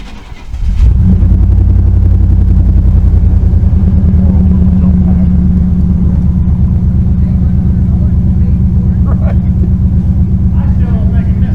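A two-cylinder tractor engine with a miss starts and runs loud and close at an auction, a heavy, steady low throb with uneven beats, with voices faintly underneath.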